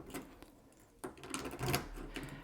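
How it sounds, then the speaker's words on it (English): Mechanical clicks and scraping of a key turning in the cylinder of a WELOCK keyless-entry smart door lock, close and fairly quiet, with a sharper click about midway. "turn the key, and now that is in the unlock position"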